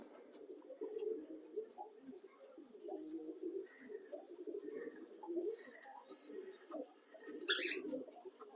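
Lahori and Sirazi pigeons, a grey barless Lahori and a black Sirazi female among them, coo softly and steadily in a loft, with a bright chirp near the end.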